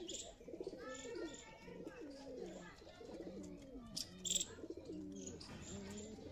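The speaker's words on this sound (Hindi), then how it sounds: "मचल रहा है कबूतर, देखें ये" Domestic pigeons, a Rajasthani Laldum Kaldume pair, coo in repeated throaty phrases close by, with faint chirps and someone talking now and then.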